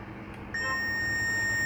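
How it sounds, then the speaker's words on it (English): A continuity tester on a multimeter probing a MOSFET on an Asus X551CA laptop motherboard sounds a sudden steady high beep that starts partway in and holds to the end, clear and close, without talking. "This MOSFET is giving the beep."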